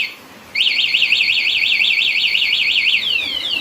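A loud Honda Wave 125 motorcycle anti-theft alarm warbles in a rapid, steady rising-and-falling siren pattern, then shifts to quick descending chirps; close and continuous, no talking.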